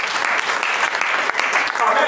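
A church congregation applauds steadily and densely at close range, with voices mixed into the clapping throughout.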